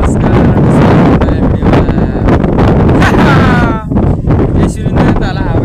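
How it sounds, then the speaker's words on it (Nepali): Strong wind blows across an open village hillside in Nepal, roaring and buffeting the microphone loudly and almost continuously, with gusts rising and easing and brief higher sounds showing through. "यसरी नै तल हावा यस्तो खिलिरहेको छ"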